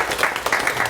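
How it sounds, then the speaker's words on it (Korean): Brief burst of clapping from a church congregation during a Korean Sunday worship service, many hands at once, fairly close and loud, lasting under a second. "박수 한번 하겠습니다."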